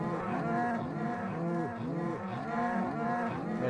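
A herd of cows in Minecraft moos continuously, with many overlapping low, wavering calls layered into a loud, steady chorus and no talking.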